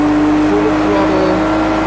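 A BMW 1 M Coupe engine at full throttle in a racing video game, a loud steady drone with a rising tonal whine, close and sustained throughout.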